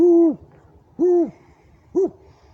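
An owl hoots three times in dark woods, evenly spaced about a second apart, clear and fairly close against an otherwise quiet night.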